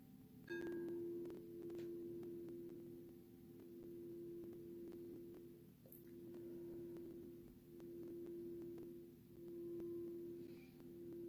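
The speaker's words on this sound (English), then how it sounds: "These tones will assist in the attunement and healing" Steady healing tones form a sustained pure hum, faint and continuous, swelling and fading gently in slow waves over a quiet background.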